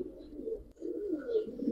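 Giribaz pigeons, a top-quality silver Bagha black-necked pair, coo in low, rolling murmurs that swell and fade over a couple of seconds, close by and fairly soft, with no talk.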